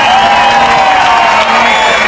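Audience at a workshop album launch claps and cheers loudly, a dense, steady wash of many hands and whoops running for about two seconds without a break.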